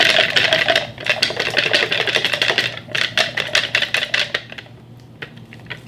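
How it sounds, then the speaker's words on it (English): A whisk beats egg batter for lemon cake chaffles in a bowl, giving rapid rhythmic clinks and scrapes of metal on the bowl. The strokes come fast and dense at first, then slow and thin out toward the end. "So I'm using a whisk to kind of break it up, get the temperature back down."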